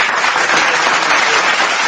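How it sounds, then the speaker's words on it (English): Loud, dense audience applause fills the whole short stretch as a steady wash of clapping, close and continuous with no talking over it. "Round of applause for your motherfucking self."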